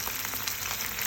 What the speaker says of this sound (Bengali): এখন সবগুলো উপকরণকে ভালোভাবে নাড়বে।